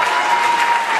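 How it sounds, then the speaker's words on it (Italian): Loud, dense applause from an audience at a live event, a brief unbroken roar of many clapping hands heard close and on its own. "Un altro grandissimo applauso lo vorrei per Massimo Rizzoli"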